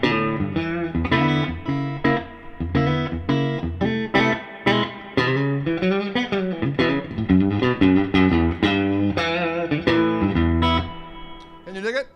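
Electric guitar through amp reverb only, no other effects, plays a melodic phrase of sustained notes and quick runs, washed in reverb, ringing out at the end.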